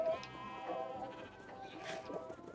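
Sheep bleating in the video game Minecraft on the Mineplex server, a few wavering bleats over steady background game music, moderately loud throughout.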